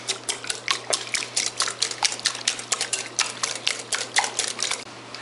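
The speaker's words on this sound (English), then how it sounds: "Add another 2 whole eggs to the 2 egg yolks. Whisk those up." Two whole eggs and two yolks whisked in a bowl for Chinese egg tarts, giving a brisk, even rhythm of close metallic ticks and light sloshing that carries on steadily without any voices.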